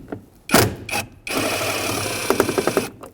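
7mm bolt being removed from the A-pillar grab handle of a Ford F-350 with a power tool, giving a few short bursts and then a sustained whirring run that ends in quick rattling taps, close up.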